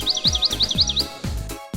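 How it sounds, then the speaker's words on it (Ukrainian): Birds chirping in various voices, a quick run of bright, close repeated tweets over a rhythmic thumping backing beat, all within about two seconds. "Птахи на різні голоси."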